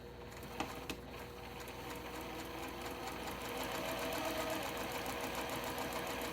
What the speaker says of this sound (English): And just sew on down that line